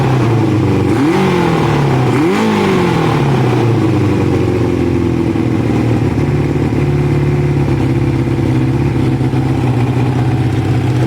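Close up, a Kawasaki ZL600 motorcycle engine runs loudly. Two quick revs rise and fall early on, then it settles into a steady, even idle.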